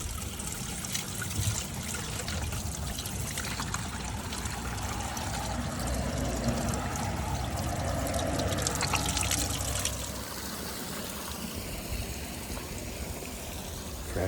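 Fresh water runs and trickles steadily from a spout along a hiking trail, a soft continuous splashing that drops slightly in level toward the end.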